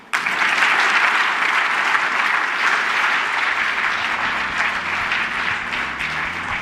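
Large indoor audience at the Infosys Prize ceremony breaking into loud, sustained applause, dense continuous clapping with no voices above it.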